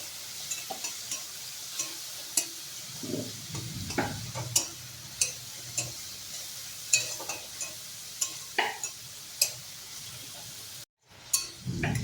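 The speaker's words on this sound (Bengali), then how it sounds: "আর মরিচ গুঁড়ো। মশলাটাকে ভালো করে কষিয়ে নেব।" Chili powder and spice masala for khichuri being stirred and fried in a pan, with a steady soft sizzle under repeated sharp scraping clicks of a spoon against the pan at an irregular rhythm, close by with no talk.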